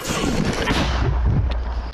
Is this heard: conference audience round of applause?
no